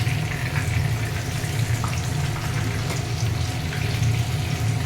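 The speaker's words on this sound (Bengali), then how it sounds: "একটু কম তেল দিয়ে ভাজতে হবে" Fish chops shallow-fry in a little oil, giving a steady, dense sizzle and crackle that holds close and even throughout, with no voices.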